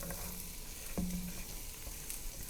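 Finely chopped sweet onion fries in butter in a Dutch oven, giving a steady low sizzle with a spoon scraping and stirring now and then, close by and without talk.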